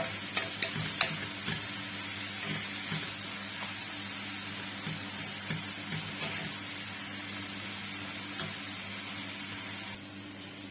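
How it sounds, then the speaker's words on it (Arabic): Chicken pieces fry in a pan for a paella while being stirred. A steady soft sizzle runs throughout, with a few sharp clicks of the utensil near the start and no talking. "ضروري نبداو نحركو فيه ونقلبو في الدجاج ديالنا"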